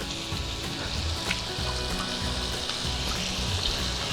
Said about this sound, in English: while we let our bacon cook